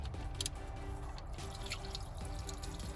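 Hot water from a boat engine's drain plugs trickling and dripping steadily into a container, close by, with a low mechanical hum underneath.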